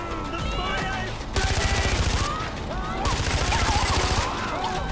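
Gunfire in Far Cry 4 during an attack on Banapur: dense bursts of automatic shots come in two long stretches, loud and close, mixed with other game noise and a player's voice.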